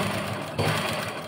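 A sewing machine stitching an old cotton T-shirt into a top, running as a continuous dense mechanical whir, close and steady across the short stretch with a slight surge midway.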